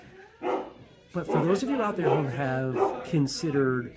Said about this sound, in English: You can hear a dog in the background.